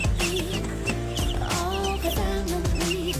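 Young kampung chicks around three months old cluck and peep close by, short repeated calls overlapping one another against a loud, busy background that fills the whole stretch.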